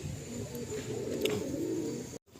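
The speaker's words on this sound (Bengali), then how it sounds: "পায়রা প্রচুর আছে" Pigeons in a crowded loft in Kolkata give a steady low cooing with soft chirps and some shuffling, close and continuous, then the sound cuts off abruptly near the end.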